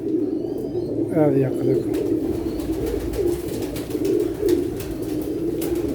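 A black-marked pigeon coos in a short rolling burst on a rooftop, close by, while someone talks over it in a steady voice.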